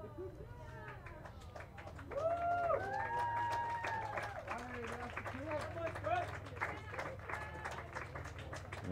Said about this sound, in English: A nice applause for Scripp as he comes off towards the near side